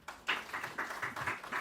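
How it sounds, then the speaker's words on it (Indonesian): A small group of girls in a classroom session claps in a quick, steady rhythm of about seven beats. It sounds faint and slightly distant. "tepuk tangan suku cewek satu"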